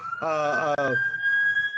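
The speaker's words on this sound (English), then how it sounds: "sorry about the siren" A police siren wails nearby with a rising, sweeping tone, loud and close and then holding a steady high pitch as it carries on, with a voice briefly audible beneath it.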